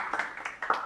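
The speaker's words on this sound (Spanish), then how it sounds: "aplauso para Samir" A small group of students in a school classroom claps briefly for a classmate, a few soft, uneven bursts of hand claps, fairly faint and close.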